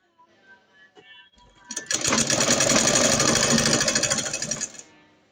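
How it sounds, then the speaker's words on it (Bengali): A sewing machine stitches a salwar waistband in one steady burst of about three seconds. The rapid mechanical rattle starts after a few faint clicks and then stops abruptly. "এরকমের জন্য আমি এখানে একটা সেলাই দিয়ে নেব। পুরোটা সালোয়ার সেলাই করে নেব।"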